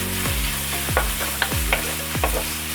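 Green chillies tossed into onions softening in a hot pan, with a steady sizzle and repeated stirring scrapes at a close, even rhythm and no talking.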